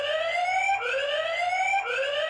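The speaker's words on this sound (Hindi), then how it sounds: "इसका जो ऑडियो अलार्म वाला सिस्टम है ना वो बहुत ज्यादा सही है, लाउडर भी है और सही भी है" A CP Plus outdoor wifi camera's built-in audio alarm sounds loudly, a rising electronic siren-like whoop that repeats in sweeps about a second apart.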